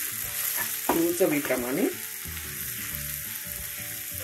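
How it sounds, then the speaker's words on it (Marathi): Dried fish sautéed with onion-garlic masala in a pan, a steady soft sizzle with spatula scrapes throughout, while someone talks over the first half. "छान हे थोडंसं परतून घ्यायचं मसाला टाकून"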